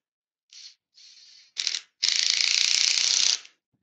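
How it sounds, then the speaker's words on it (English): A screwdriver driving a screw into wood while building a lathe steady rest, heard as a few short ratcheting bursts and then one longer, steady rapid clicking run, close and clear with no talk. "And then we can screw that in now."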